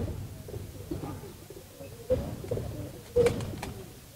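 Giribaz pigeons of a Palla line strain coo in soft, low repeated calls close by, with a few sharper bird notes and faint background voices.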